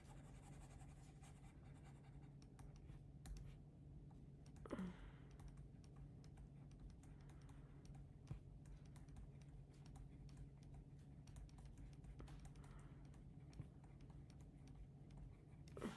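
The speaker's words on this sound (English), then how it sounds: "Let me try to type better." Computer keyboard typing, very faint and distant, with scattered soft key taps over a steady low background hum and no one speaking.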